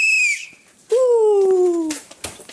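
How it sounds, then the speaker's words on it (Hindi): A whistle is blown during a house task, one short high note and then a longer sustained blast, loud and close with no talk over it. "अब मैं तो सीटी बजा रहा हूँ।"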